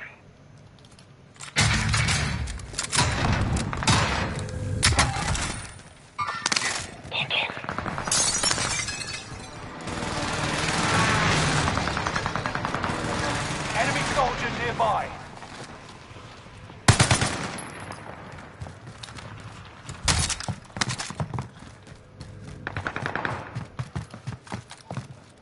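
Video game gunfire, with sharp bursts of rapid automatic shots and single cracks, some with breaking-glass shatter, coming in irregular clusters across the clip while players talk intermittently.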